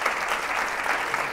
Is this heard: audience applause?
yes